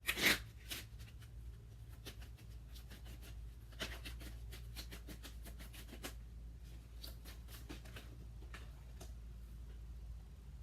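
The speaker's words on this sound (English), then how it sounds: "now I'm going to shuffle the Zodiac Oracle" Soft, continuous shuffling of Zodiac Oracle cards, a steady papery rustle with scattered crisp flicks, close by and with no talking.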